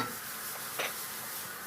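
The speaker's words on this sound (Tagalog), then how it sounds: "Ako ginigisa ko." Vegetables sautéing in a pan for Batangas-style lomi give a steady, soft hiss of sizzling with a brief stir or scrape in the middle, close and fairly quiet.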